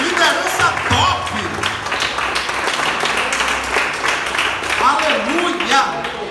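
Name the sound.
church congregation applauding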